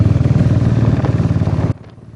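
A Royal Enfield motorcycle fitted with a Red Rooster exhaust silencer thumps loudly and close with a rapid, steady low beat, then cuts off abruptly, leaving a quiet hum.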